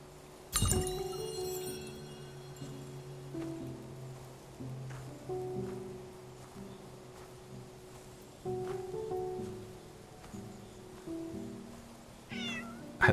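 A cat meows several times inside the Lushfoil Photography Sim video game, short repeated calls spread across the clip over soft ambient tones and light clinking, with no talk.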